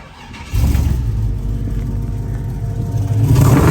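A 1966 Chevrolet Chevelle with an LS engine cranks and fires, settling into a loud, deep rumbling idle close by, then revving up near the end.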